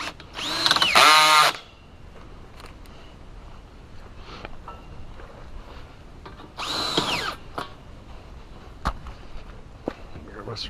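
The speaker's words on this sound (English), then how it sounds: "Let's drill here." A power drill runs in two short, loud bursts while a high tunnel frame is being built, the motor whining up and winding down each time, with quiet handling clatter and footsteps between.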